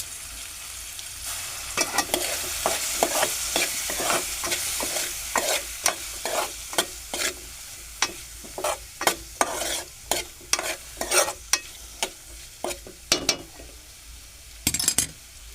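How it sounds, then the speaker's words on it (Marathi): A spoon stirs colour masala and ginger masala through hot oil in a pan for chole, giving a soft sizzle under repeated scraping, clinking strokes that grow sharper and more distinct toward the end. "कलर मसाला थोडासा आदा मसाला चांगला ढवळून घेतो"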